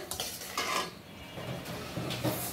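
Cumin seeds and dried chilies crackle in hot oil in a pan while a utensil stirs and scrapes against the metal. The sizzle is steady and close, with clinks and scrapes throughout.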